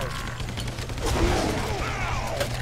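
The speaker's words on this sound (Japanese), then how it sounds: "今なんか爆発にやられたな、俺。" Explosion from an RPG in the zombie shooter game Guns, Gore & Cannoli 2, a loud burst among continuous gunfire and game noise, with players talking over it.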